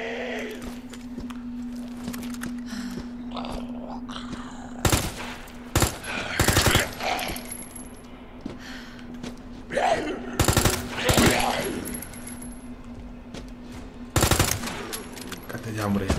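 Bursts of rapid gunfire from Resident Evil 2 Remake crack out in several short volleys, loud and close, over a steady low electronic hum with faint game sounds between.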